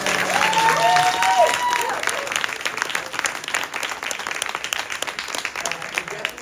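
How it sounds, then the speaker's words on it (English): An audience at an end-of-season flag football celebration gives a round of applause, dense sustained clapping that starts under a brief voice and carries on alone, gradually thinning. "So can you guys just please give them a round of applause?"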